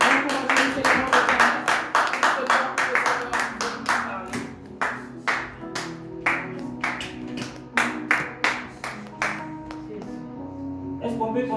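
Congregation at a church service clapping in a steady rhythmic beat, loud distinct claps repeating through the whole stretch with a faint musical backdrop.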